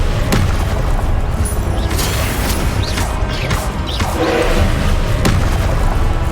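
Loud booming blasts and crashing impacts from a Confringo blasting spell in the Hogwarts Legacy video game, several bursts over dense continuous battle noise.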